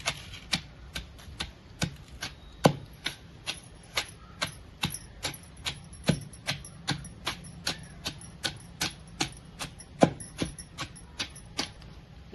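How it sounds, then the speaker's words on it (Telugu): Steady, evenly spaced thuds of a stone pestle pounding rock salt and ingredients in a stone mortar, about two strikes per second, crisp and close with no talking. "ఇంకా రోట్లో వేసేసి దంచుకుందాం అండి"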